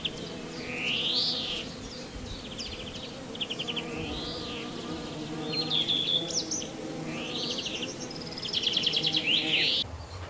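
Klanceng stingless bees kept in a home yard garden hum in a steady close drone, with bird chirps and calls repeating over the top.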